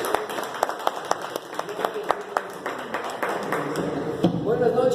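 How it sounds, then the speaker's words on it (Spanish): Scattered clapping from an audience at a talk: sparse, distinct claps spaced irregularly that thin out toward the end, with voices in the background. "para que también pida un aplauso al responsable de la logística de esta tarde de hoy"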